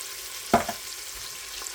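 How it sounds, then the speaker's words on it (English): Garlic powder, cumin and smoked paprika sizzling in browned butter in a pot, a quiet steady fry with one brief louder scrape of stirring partway through. "now that all that's sauteing pretty nicely"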